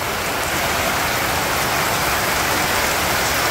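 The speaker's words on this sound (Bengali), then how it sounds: "বৃষ্টিও নামছে" Heavy rain falling steadily outdoors in rural Bangladesh, a dense, loud, unbroken hiss of drops on surfaces that fills the whole stretch with no voices.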